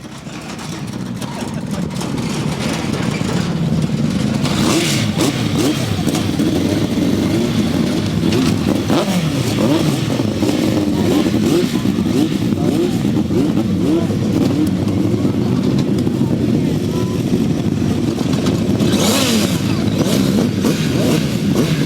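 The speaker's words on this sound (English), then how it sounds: "We stayed with the 1000cc sidecars." 1000cc sidecar outfits racing at a classic grasstrack meeting, engines roaring loud and continuous as the machines rise and fall in revs, with a commentator's voice faintly mixed in.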